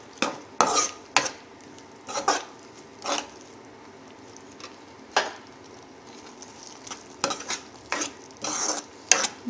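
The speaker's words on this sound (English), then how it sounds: "Just mix it." A spoon stirs bisibela bath, made from leftover sambar and rice, in a pot. Close scraping and clinks against the metal come in uneven bursts with short quiet gaps between them. Nobody speaks.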